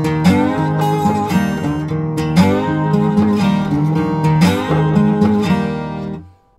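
Electric guitar plays the closing picking pattern of a song, a steady fast run of picked notes over a sustained ringing chord, loud and close, then cutting off sharply at the end with no voices.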